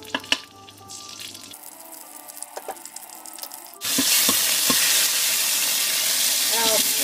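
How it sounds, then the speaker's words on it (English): Yellow curry paste hits hot oil in a wok over medium heat, bursting into a loud, steady sizzle after a few quiet kitchen clicks, hissing continuously to the end. "Now to our wok over medium heat, we're going to add our oil, our curry paste."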